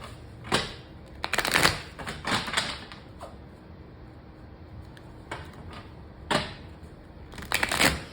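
A deck of oracle cards is shuffled in several quick riffling bursts separated by short pauses, crisp and close, with no voices during the shuffling.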